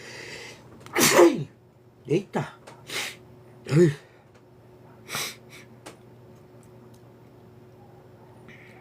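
A person sneezes loudly and close by, with a few more sneezes, snorts and throat-clearing sounds spaced out over several seconds against a quiet room, and a short spoken exclamation among them.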